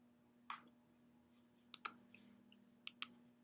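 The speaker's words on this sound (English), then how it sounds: "Go ahead and click OK" Two quick pairs of sharp mouse clicks, close and crisp, after an earlier single click, pressing an OK button in a Photoshop dialog against a faint steady hum.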